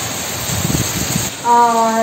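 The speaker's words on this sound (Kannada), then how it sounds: "ಫುಲ್ ಮಳೆ ಬರ್ತಾ ಉಂಟು ಹೊರಗೆ." Heavy rain pours outside during a cyclone, a steady loud hiss filling the whole clip, with a sustained tonal hum rising over it in the second half.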